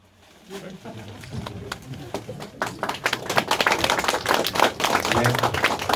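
An audience at a provincial organic farming convention in Jeollabuk-do breaks into clapping that builds from a few scattered claps into steady, dense applause. A voice talks over the start.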